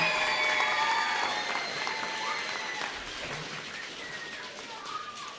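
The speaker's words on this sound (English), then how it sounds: "That's worth applauding." Steady applause from a crowd at a press conference, sustained and fairly loud at first, then gradually thinning out over several seconds.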